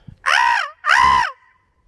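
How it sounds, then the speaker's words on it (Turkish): A crow gives two loud, harsh caws in quick succession, close by, at a lakeside park. "O da karga sesi çıkartıyor ha"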